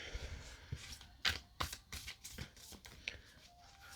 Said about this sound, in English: Probably going to have to shuffle this better later.